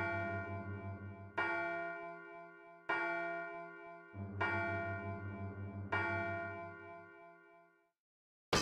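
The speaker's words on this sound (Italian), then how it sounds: "Esattamente 5 rintocchi." A school clock tower bell in the game Silent Hill tolls five times, each deep resonant strike ringing out and decaying slowly before the next, evenly spaced and loud with no talk.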